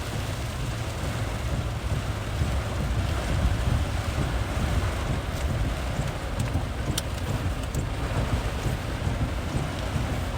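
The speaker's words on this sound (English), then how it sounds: "Very heavy rain falling." Very heavy rain pours steadily with gusting wind during a severe storm in Roseville, southeast Michigan. It is a dense, continuous roar with no breaks.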